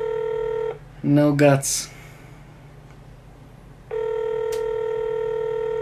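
An outgoing phone call rings unanswered, giving two long, steady ringback tones separated by a pause in which a voice speaks briefly.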